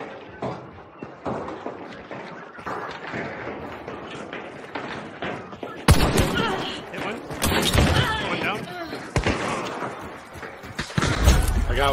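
Gunfire in the game Hunt cracks out in a loud burst of shots and impacts, followed by scattered thuds and mechanical clatter, with players talking over the action throughout.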